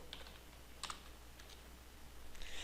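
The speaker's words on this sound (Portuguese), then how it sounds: "vou digitar uma mensagem aqui" Quiet keystrokes on a computer keyboard, a few sparse, light clicks and taps spread over a couple of seconds with low background hum, no talking.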